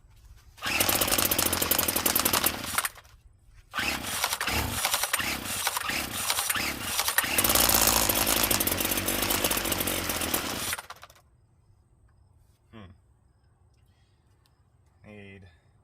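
An old McCulloch string trimmer that sat unused for about ten years roars loudly at full throttle, surges and stutters in rhythmic bursts, then cuts out. Afterward a few short revving sputters come during a quieter stretch with voices.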